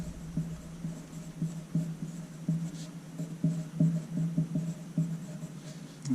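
A pencil drawing a rectangular prism on paper, with short, regular scratching strokes close by, steady and quiet, repeating in quick runs with no talk.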